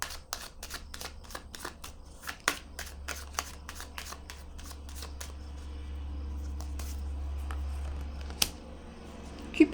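Tarot cards handled and shuffled close by, a quick series of crisp riffling snaps and flicks that come fast early on, then thin out, over a faint low hum.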